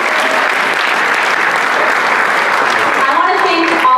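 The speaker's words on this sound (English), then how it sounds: "I just want to applaud." Thick, steady applause from a large audience at the Arab Xpressions 2017 show, a continuous loud wash of many hands with a voice briefly rising over it near the end.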